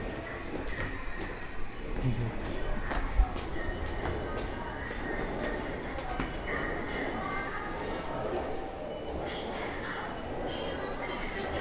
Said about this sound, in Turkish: Metroya biniş de çekmek istedim.